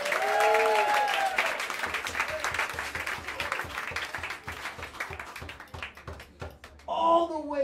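Applause from a jazz club audience at a live show in New York City, a dense patter of clapping that thins out midway, with a voice and a brief tonal sound coming in near the end.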